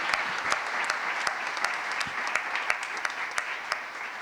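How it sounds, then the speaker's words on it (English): Applause from a conference audience at a plenary welcome session, a steady wash of clapping with sharper individual claps standing out, moderately loud and continuous throughout. "So a round of applause for them."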